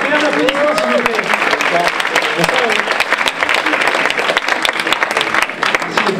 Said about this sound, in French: Appelez un applaudissement s'il vous plaît.